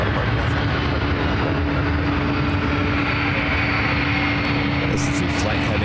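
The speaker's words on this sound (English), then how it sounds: "This is a flight heading to Chicago O'Hare." A United airliner taking off from San Francisco International bound for Chicago O'Hare roars steadily throughout with a sustained engine tone, loud and continuous, while voices talk over it.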